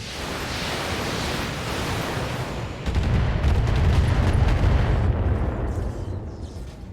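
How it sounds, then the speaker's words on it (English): Missiles launch from a mech in the BattleTech video game with a loud, rumbling roar that swells partway through and hisses on, steady and close. "Missiles away."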